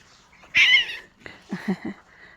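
A cat meowing while being called and fed, one loud drawn-out meow followed by a few shorter chirping meows, close by.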